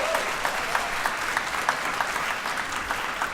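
Audience at a recruiting and motivational talk clapping steadily, a continuous even patter of many hands with no voices over it.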